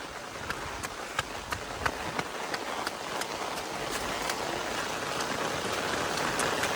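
Steady rain falls in the Konkan countryside, a continuous dense hiss with scattered sharper drop taps, moderately loud and filling the scene without any talk.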